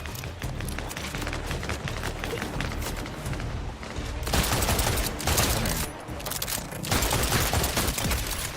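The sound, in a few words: gunshots in the video game Borderlands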